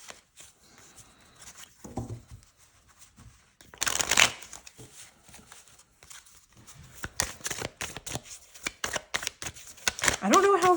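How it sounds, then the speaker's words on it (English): Small color cards from a tarot deck handled and shuffled, with soft papery riffles and flicks, a louder burst of shuffling partway through and quick bunched card snaps near the end, close and intimate, with a voice briefly under them. "let's just pull one of these color cards to kind of round it out here"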